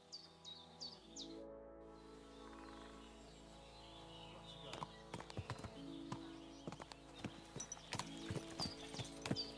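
Horse hooves in a medieval video game clip-clop in an uneven, steady rhythm on hard ground, with birds chirping and a low ambient hum underneath.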